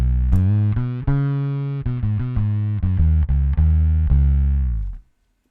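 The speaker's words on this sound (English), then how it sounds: "It is the wireless bass fuzz built by Bad Penny Effects." A bass guitar through a Bad Penny Effects wireless bass fuzz pedal with the gain set low plays a loud, buzzy line of repeated plucked notes, close and thick, before cutting off abruptly.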